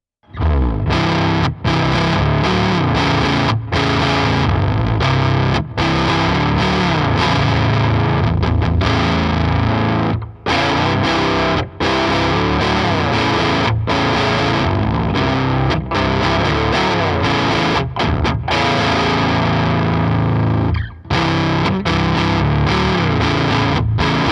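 A heavily distorted electric guitar plays a dense, continuous riff through a shimmering Crazy Tube Circuits Orama effects pedal, loud and sustained with brief breaks between phrases.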